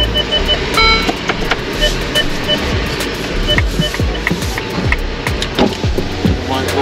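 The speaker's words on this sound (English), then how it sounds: "so I'm reversing right now." A hybrid car reverses with its engine off, so the drive is nearly silent; a faint repeating reversing beep and light clicks and thumps sit beneath a person talking.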